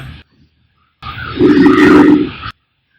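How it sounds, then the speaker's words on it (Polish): A tuned car engine gives a loud, throaty rev that rises and holds for about a second and a half, then cuts off sharply, with near silence around it. "Tak, silnik słychać fajnie."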